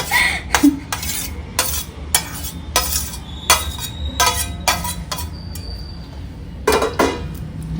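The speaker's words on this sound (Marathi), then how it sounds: "ह्या सगळं व्यवस्थित मिक्स करायचं आहे" Vegetables being stirred and mixed in a bowl for a paneer cheese bread pizza, with a steady series of sharp clinks and scrapes of a spoon against the bowl, close by and loud.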